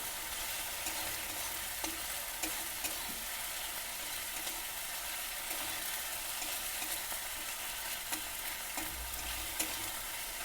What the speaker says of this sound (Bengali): আদার লঙ্কাটা একটু ভাজা করে নিয়ে তারপরে মশলা দিয়ে দেবো